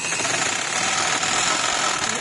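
A sewing machine stitches trouser fabric, a continuous fast, buzzy mechanical chatter running at a steady pace, close and fairly loud, with no talking.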